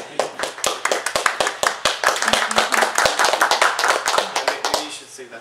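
Audience clapping after a speaker is introduced at a lecture on health disparities, a close, fairly sparse run of distinct hand claps with faint voices underneath, tapering off at the end.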